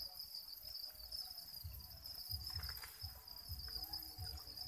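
Crickets chirp in a steady, continuous high trill, with low rustling and tapping beneath. No one speaks, and the chirping stays faint throughout.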